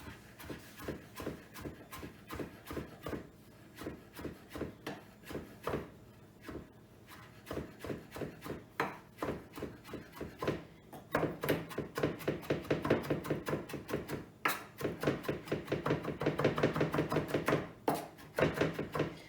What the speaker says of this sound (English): Here we go, and then just fine chop that.